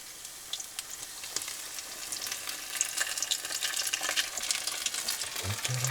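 Battered food frying in hot oil at a taiga campsite, a steady dense sizzle and crackle running throughout with small pops, close and moderately loud, no talking.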